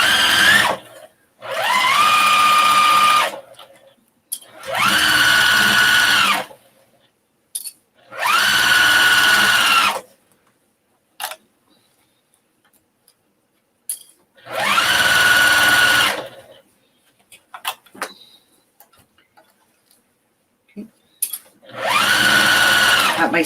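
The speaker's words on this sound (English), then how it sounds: "we're gonna just take this, sew it a 1/4 inch all the way around" Sewing machine stitching a quarter-inch seam around a homemade shopping bag, running in steady loud bursts of a few seconds each with quiet pauses between, close by.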